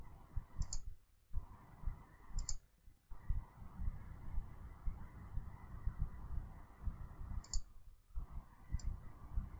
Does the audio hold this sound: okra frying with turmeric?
no